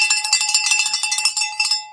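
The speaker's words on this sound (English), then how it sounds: "Oh yeah, we gotta get a vaccine bell for you." A celebratory bell rung to mark a second Pfizer vaccine dose, struck in a quick, even series of bright metallic clangs, close and loud, with sustained ringing overtones.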